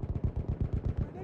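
A machine gun fires in the video game Battlefield 1 on the Cape Helles map, a rapid, even burst of about ten heavy shots in just over a second, close and loud.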